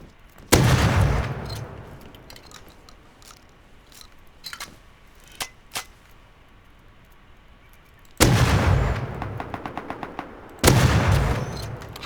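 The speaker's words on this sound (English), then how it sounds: "you're gonna die by my shotgun trap." Shotgun trap firing in the video game Rust: a sharp loud blast, a few small clicks, then two more heavy blasts with rattling echoes, all without talk.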